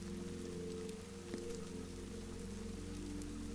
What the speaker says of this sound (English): The rain runs down the dark windows.